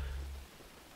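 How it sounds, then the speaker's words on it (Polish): Steady rain in the racing video game Forza Horizon 3, a soft even hiss with a low engine rumble underneath that fades out halfway through. "Deszcz pada."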